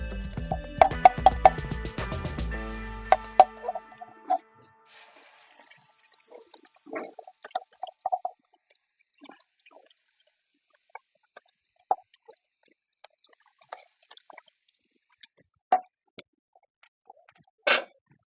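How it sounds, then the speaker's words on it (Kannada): Curry leaves and garlic dropped into a hot pan for tempering give a loud sizzling burst over the first few seconds, then settle into sparse, faint crackles and pops. "ಇವಾಗ ಕರಿಬೇವು ಹಾಕ್ತಾ ಇದ್ದೀನಿ. ಆಮೇಲೆ ಬೆಳ್ಳುಳ್ಳಿ ಹಾಕ್ತಾ ಇದ್ದೀನಿ."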